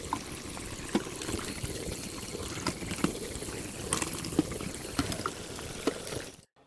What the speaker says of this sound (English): new ones like this water one, which is called Sink. It's like washing dishes and stuff.